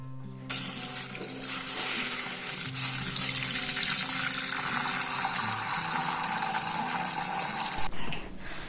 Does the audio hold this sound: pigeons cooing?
no